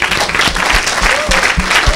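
A church congregation applauds and cheers loudly for the Lord at a revival service, dense continuous clapping with voices mixed in throughout.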